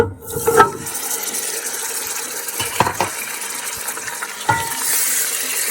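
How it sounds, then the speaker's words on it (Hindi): Minced meat (qeema) dropped into a pan of frying onions: a few clattering thuds and scrapes of a spoon over a soft background sizzle, with occasional sharper knocks and no voices. "तो ये देखें कीमा मैंने इसके अंदर डाल दिया है।"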